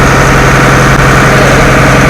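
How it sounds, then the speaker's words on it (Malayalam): A loud, close houseboat engine runs at a steady idle in Alappuzha, a constant low droning hum with a rough, vibrating texture throughout. "ഇതിനുള്ളിലാണ് ഇതിന്റെ എഞ്ചിൻ ഇരിക്കുന്നത്"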